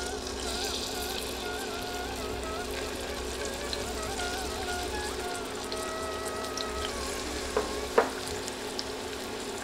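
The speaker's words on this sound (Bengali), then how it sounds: "এবার নেড়ে নেড়ে এগুলো তেলে ভেজে নিব।" Chopped onions and dried red chillies fry in hot soybean oil, giving a steady, soft, crackling sizzle throughout, with a couple of small sharp pops near the end.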